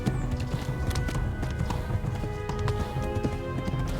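A horse gallops steadily in Kingdom Come: Deliverance, with rapid, rhythmic hoofbeats on the ground that are close and loud, running continuously with no talk over them.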